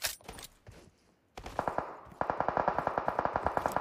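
PUBG gunfire: a few scattered shots, then sustained rapid automatic bursts of evenly spaced loud cracks, close and sharp with slight echo, no talking.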